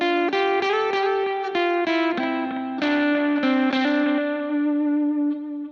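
A Fender Strat electric guitar with its volume knob rolled back to 8 plays a run of bright, nearly clean notes and chords, each attack clear with the top end intact, loud and close with a light effects shimmer.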